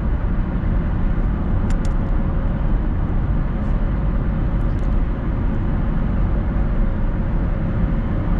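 Cabin of a 2008 Toyota Prius Grand Touring driving on the road, with a steady, loud low rumble of road and engine noise that continues without a break.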